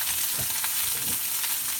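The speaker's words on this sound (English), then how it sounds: "All I'm doing is sauteing my vegetables and braising my turkey." Vegetables and turkey sizzle in a hot pan with a steady broadband hiss, and a few soft knocks and stirring scrapes come through. There is no talking.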